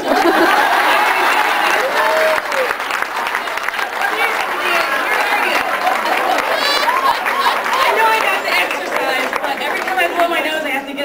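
Comedy club audience applauding, loud and close, with dense clapping mixed with whoops, cheers and crowd chatter running throughout.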